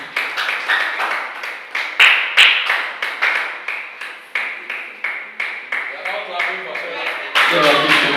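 Audience applause greets a woman leader called onto a stage at a community event, with sharp bursts of hand clapping that swell and fade in waves, loud and close, plus a heavier burst near the end.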